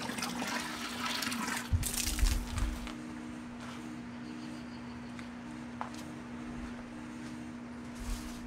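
Filtered water pours into a homebrew kettle, a steady close rushing flow that is loudest at the start and then settles into a softer continuous trickle with a low hum underneath.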